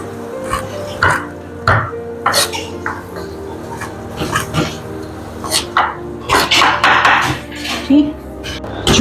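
Cooked pumpkin being crushed into puree for halwa in a metal pan, with irregular scraping and clanking knocks of the utensil against the pan, close and fairly loud, with brief pauses between strokes.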